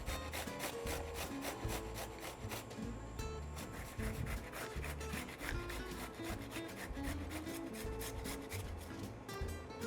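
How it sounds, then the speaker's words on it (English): A tomato is grated into a colander with quick, repeated rasping strokes in a steady scraping rhythm, close and fairly quiet, with no talk. "I'm going to grate into the colander because I want to catch the tomato, but let all of the extra juices run through"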